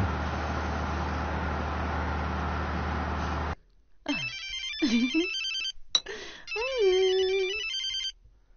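Phone call home: a low hum of traffic and a passing car, then silence, then a ringback tone with warbling electronic ringtone sounds, close and clear, with no one speaking.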